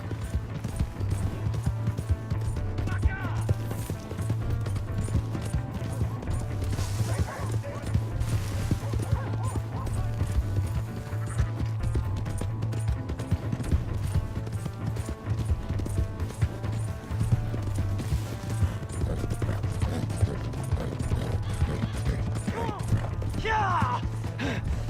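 Horse hooves clip-clopping in the video game Red Dead Redemption 2, a steady faint rhythm running under game dialogue and shouting voices, with a brief neigh near the end.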